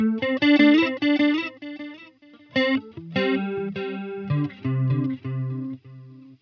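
An electric guitar through a Line 6 Helix plays a melodic line drenched in chorus then delay, notes echoing and shimmering as they trail off.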